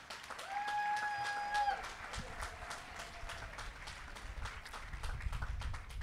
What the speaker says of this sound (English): can we give a round of applause to the cabinet?